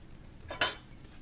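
A metal spoon is lifted out of pancake batter for mushroom and ground meat crêpes, making a single short, quiet clink against the bowl in a quiet kitchen.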